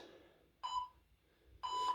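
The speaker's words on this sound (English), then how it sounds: "Here's the beeps." Two short electronic exercise timer beeps about a second apart, each a sustained high tone, with quiet gaps between.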